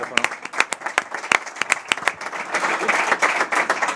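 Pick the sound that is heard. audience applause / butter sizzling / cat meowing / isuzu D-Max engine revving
audience applause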